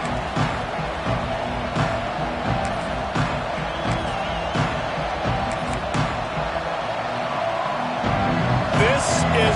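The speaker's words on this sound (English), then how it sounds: "This crowd ready to make its presence known." A football stadium crowd at an Alabama game roars in a steady, dense wash of cheering that swells slightly near the end, with a commentator talking over it.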